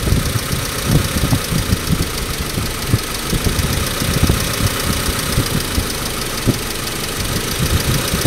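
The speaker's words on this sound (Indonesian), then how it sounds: "kedengaran ya perubahannya RPM" Car engine running steadily with an uneven, knocking throb as its RPM rises after a piece of metal is pressed against ground, a continuous close mechanical drone with no talk.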